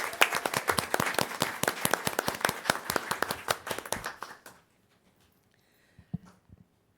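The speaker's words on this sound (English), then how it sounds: "So let's give him another round of applause." An audience applauds at a Hispanic Heritage Month award ceremony, a dense burst of close hand claps lasting about four seconds before stopping abruptly, followed by near silence and a couple of faint knocks.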